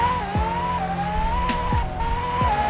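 A virtual car engine in the Roblox game Driving Empire holds a steady, buzzing whine that dips and recovers with each gear shift, loud and close, with no voices.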